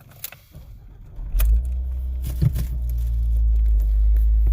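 A 2016 Jeep Renegade starts up close by: clicks and a brief key jingle, then the engine cranks and catches, settling into a steady low idle that slowly swells in loudness.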